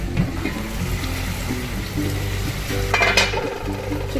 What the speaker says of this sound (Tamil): இந்த சிக்கன் வந்து கொஞ்சம் மசாலாவோட மிக்ஸ் ஆகிற அளவுக்கு கொஞ்சம் நீங்கள் லைட்டாக ஹாஃப் குக் பண்ணணும்